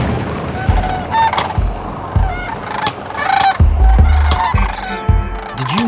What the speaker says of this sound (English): the Sandhill Crane is a pretty damn interesting bird